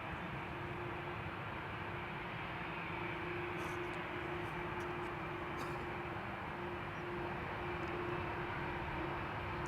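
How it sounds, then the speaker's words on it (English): Transavia passenger jet departing Amsterdam Schiphol Airport, a steady, distant broadband engine roar with a constant low drone and a few faint high chirps, even in level throughout, with no voices. "Transavia is coming this way."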